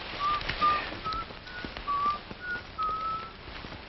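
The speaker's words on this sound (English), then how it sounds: "Listen, somebody's whistling Yankee Doodle." A person whistles the tune Yankee Doodle, a thin, clear series of short melodic notes, fairly faint and somewhat distant over a hissy background.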